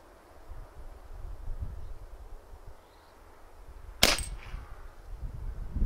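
A single sharp crack from a Niksan Serpent-S .177 CO2 air pistol cuts through quiet outdoor wind and rustling, followed by a brief tail.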